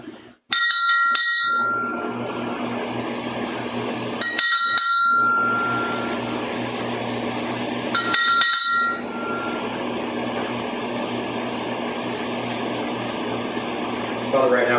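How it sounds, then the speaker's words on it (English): A bell rings three times before a prayer, each a bright metallic strike a few seconds apart that rings out briefly over a steady background hum. "we're going to do a bell ring"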